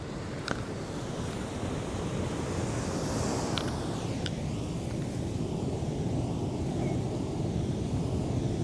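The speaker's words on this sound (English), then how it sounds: "Gotta watch for those waves coming in." Ocean surf washes in with a broad, steady roar, with wind buffeting the microphone throughout.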